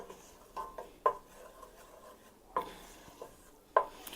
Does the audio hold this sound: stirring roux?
yes